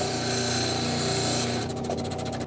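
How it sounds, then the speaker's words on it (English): A large rock saw, up to 24 inches, slices stone slabs with a steady, loud grinding whine that holds continuously and shifts into a rougher pulsing tone near the end. "We have multiple rock saws all the way up to a great big 24-inch saw"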